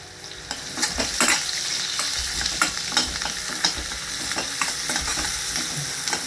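Onion garlic masala with sugar and coconut stirred in a pan, a quick series of close spatula scrapes and taps over a soft steady sizzle.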